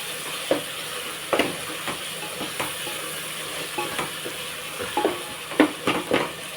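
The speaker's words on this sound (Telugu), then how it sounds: "ఇవన్నీ కదిపేస్తున్నాను చూసారా పేస్ట్లాగా అయిపోయింది కదా" Mutton curry with biryani powder is stirred in a pan of hot oil, giving a steady close sizzle broken by repeated scraping strokes of the spoon, with no talking over it.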